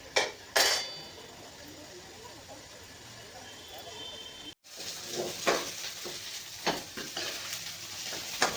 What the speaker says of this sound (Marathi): थोडं थोडं तेल टाकून कांदा आणि टोमॅटो अद्रक लसूण सुद्धा भाजून घ्यायचंय